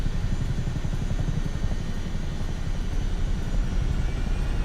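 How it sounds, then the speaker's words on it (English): Helicopter rotor blades whir in Microsoft Flight Simulator, with a continuous low, rumbling drone and a faint rhythmic chop steady throughout. "Oh, the blades hitting the air sounds awesome."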